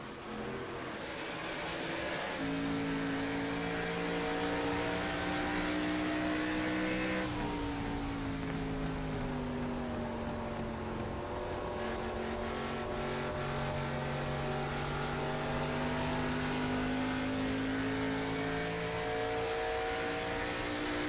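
Stock race cars in a Midwest Winston Cup Series oval race roar continuously, a loud layered drone of several engines whose pitch rises and falls as the pack circulates, with no talk over it.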